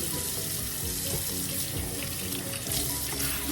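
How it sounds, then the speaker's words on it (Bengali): Tap water running steadily into a kitchen sink while okra is washed by hand, a continuous close splashing rush with no talking. "ঢেঁড়সটা ভালো করে ধুবো"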